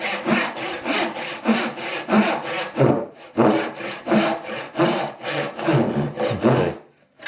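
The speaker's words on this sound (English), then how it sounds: "You can hear the note change when you're all the way through" Hand saw cutting through a wooden workpiece for a cube box, rhythmic rasping back-and-forth strokes close by, with a short pause near the middle and a final stop as the cut goes through.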